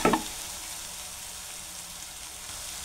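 Spices for a paneer curry fry in a pan with a steady close sizzle, opening with a brief louder burst of crackling that settles into a constant hiss.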